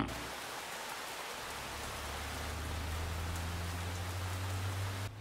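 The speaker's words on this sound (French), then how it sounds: "On a évité la pluie de justesse." Steady rain hisses on a surface, with a low rumble rising underneath partway through.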